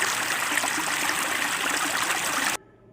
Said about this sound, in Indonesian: Tiba-tiba terdengar suara air deras.